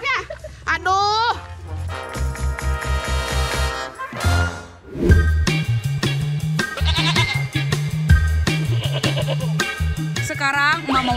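A goat bleats in wavering cries at the start and again near the end, heard among chatter, children's voices and background music at a lively gathering.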